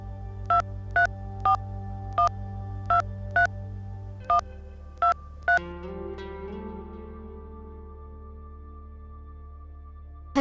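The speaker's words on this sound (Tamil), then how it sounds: "அண்ணனோட ஃப்ரெண்டுக்கு வேணா கால் பண்ணி கேட்டு பார்க்கலாமா?" A telephone number dialed on a touch-tone keypad: eight or nine short, evenly spaced beeps, then a fading ringing tone, clear and close with no talking.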